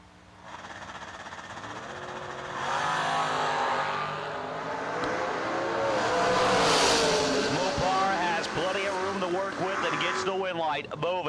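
Drag race launch of a 1972 Cuda and a COPO Camaro, engines rising from idle to a loud roar and fading down the strip, heard under a continuous announcer's commentary.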